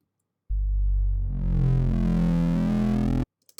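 A fat foghorn-style synth bass patch built in Serum plays one sustained note, a loud, heavy, distorted buzz that swells brighter midway and cuts off abruptly, followed by a couple of tiny clicks.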